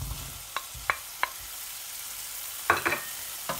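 White onion and mirabelle plums sweating gently in butter in a pan, a soft low sizzle broken by several sharp utensil taps and scrapes, close and fairly quiet with no talking.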